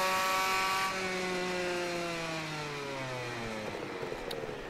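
A 125 RS motorcycle revs hard as it is ridden in the Ride 3 racing game, its two-stroke engine whining in a steady high-pitched drone that slowly falls in pitch, heard alone at moderate loudness.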